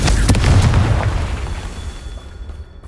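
A loud, close Confringo explosive spell blast from Hogwarts Legacy bursts as a single deep booming impact, then rumbles and decays over a few seconds into quiet.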